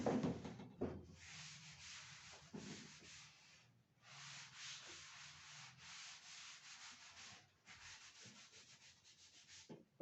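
Writing is rubbed off a board in a quiet classroom lesson, with steady, continuous scrubbing strokes broken by a few short pauses and no talking over them.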